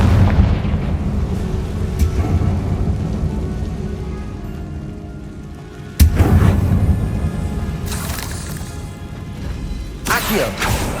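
A Confringo blasting spell explodes in Hogwarts Legacy, a sharp broadband burst at the midpoint rising out of a steady rumbling, rain-like game ambience, with further lighter crackling bursts toward the end.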